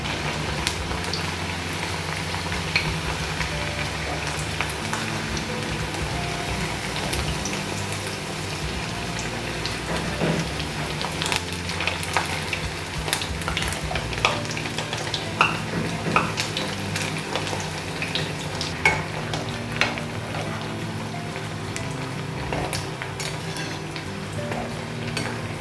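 Sago thattai fry in hot oil, giving a steady crackling sizzle with frequent pops and occasional stirring. It is fairly close and continuous, with no talking.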